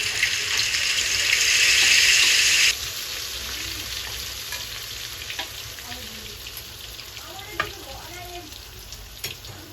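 Food for the children sizzles and fries in a pan of oil in a home kitchen, a bright steady hiss loud at first, then dropping to a softer crackle with faint clinks and stirring.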